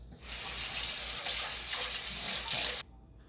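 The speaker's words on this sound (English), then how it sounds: "Wash my hands." Running tap water splashes steadily over hands at a sink for nearly three seconds, then is turned off abruptly, close and fairly soft, with no talking.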